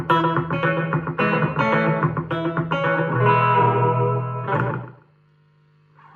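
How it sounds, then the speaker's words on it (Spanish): A rockabilly electric guitar with a slapback echo effect plays a quick run of picked notes and chords, each doubled by a short repeat, ending on a ringing chord that fades before a soft final pluck. "Vamos a añadir el eco."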